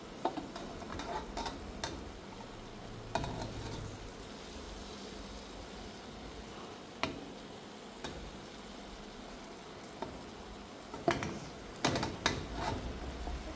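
Egg and noodles for Pad Thai cook in a wok over the fire, a low steady sizzle broken by scattered ticks and scrapes of the spatula against the pan.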